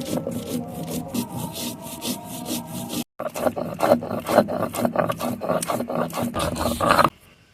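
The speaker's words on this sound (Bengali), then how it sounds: "জিরেগুলো বেটে নেব।" Cumin seeds ground by hand on a flat grinding stone for Bangladeshi chicken khichuri, a steady rasping scrape of stone on stone in close, rhythmic back-and-forth strokes, briefly pausing midway and stopping near the end.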